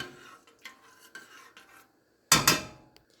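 A spoon stirring Italian sausage stuffed pepper soup in a pot, several short scraping and rubbing strokes against the pot, followed by a louder clanking scrape near the end, close and without talk.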